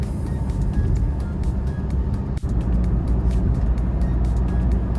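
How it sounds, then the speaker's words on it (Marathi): A car cruising smoothly at about 80 on a good road, heard from inside as a steady, loud engine and road rumble with faint ticking, no talk. "एकदम मक्खन चल रहा है गाडी"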